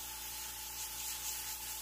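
An airbrush sprays primer gray paint onto a Boba Fett helmet, giving a soft, even, continuous hiss at low level with no pauses and no voices.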